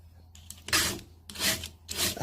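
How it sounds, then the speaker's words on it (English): A hand file rasps across a chainsaw chain held in a file guide, three distinct strokes with short pauses between, close and moderately loud. "Always make sure that when I'm using my chainsaw that I don't dull the chain that bad that it really takes a lot of filing."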